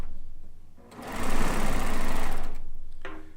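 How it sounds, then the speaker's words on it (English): Cover stitch serger stitching quilt top sections, a steady fast mechanical whir that ramps up, runs continuously for about two seconds, then slows and stops, heard up close with no talking. "I'm using the cover stitch serger machine."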